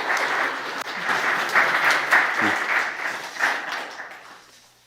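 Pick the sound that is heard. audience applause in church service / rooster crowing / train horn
audience applause in church service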